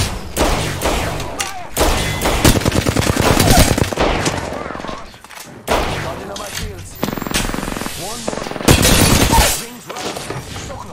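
Rapid video game gunfire in a chaotic shooter firefight, with bursts of automatic shots and sharp impacts repeating across the whole stretch, broken by a few brief lulls.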